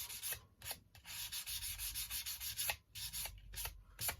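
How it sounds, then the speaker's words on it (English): Guitar frets on a Les Paul being sanded with 1000 grit sandpaper, a close, steady rubbing scrape in short back-and-forth passes, several strokes with brief gaps between them. "So I'm going 1000."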